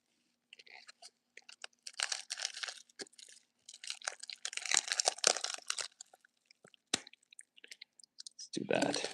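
Trading card booster packaging being cut open by hand at close range, with crisp clicks, crinkles and snipping in scattered bursts across the clip, plus a louder rustle near the end.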